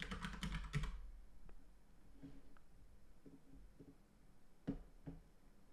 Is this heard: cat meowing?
no